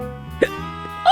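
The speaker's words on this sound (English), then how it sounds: "I'm hiccuping." A single short hiccup from a child, quick and close, followed a moment later by a second faint catch of breath, over a quiet background hum.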